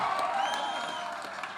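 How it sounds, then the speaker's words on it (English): Audience applause at a lamp lighting and oath taking ceremony, a dense steady patter of many hands clapping that holds for a moment and fades slightly, with scattered cheers mixed in. "Can we have a big round of applause?"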